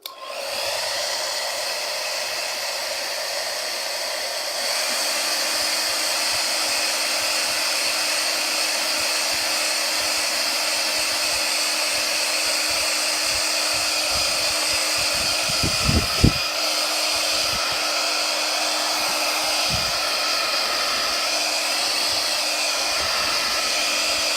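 A hair dryer blows close by to dry ink during a craft session, giving a loud, steady whooshing whir that runs unbroken throughout, with no voices over it.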